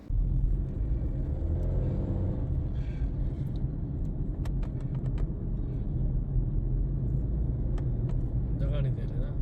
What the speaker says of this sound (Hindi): अब हम गाड़ी को करेंगे ड्राइव और चेक करेंगे कि गाड़ी क्या पोजीशन है